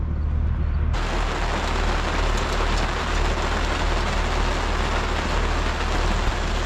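Steady heavy rain pours down across a Minnesota wheat field at harvest, a dense continuous hiss with a low rumble underneath, filling the whole stretch without any voices.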